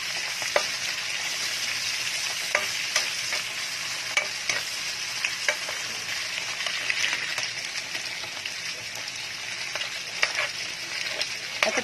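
Chopped onion and ginger fry in a pan for Bicol Express, a steady close sizzle with occasional light taps and scrapes of stirring and no talk over it.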